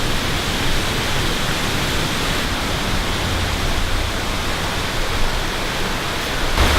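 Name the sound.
flowing water near waterfall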